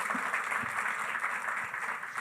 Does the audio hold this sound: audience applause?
yes